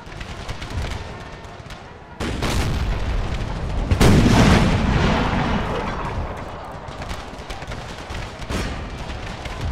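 Howitzer cannon fire booms across an Empire: Total War American Civil War mod battle, with heavy blasts near the two- and four-second marks that roll out into a loud, rumbling tail over continuing battlefield din.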